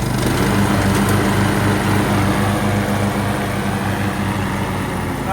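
A lawn mower engine with a belt-driven cutting deck drones loud and steady at close range while running in gear, a constant buzzing hum without pauses or speech.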